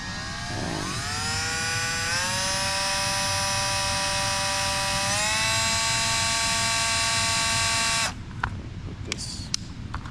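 A power drill spins a unibit step drill bit through a hole during a Ford F-150 behind-the-seat stereo installation, giving a loud, close, sustained whine whose pitch steps up as it cuts, then stops abruptly with brief handling noises.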